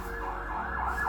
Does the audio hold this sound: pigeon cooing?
no